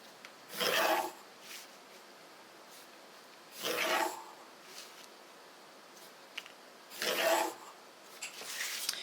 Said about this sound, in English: draw a line from top to bottom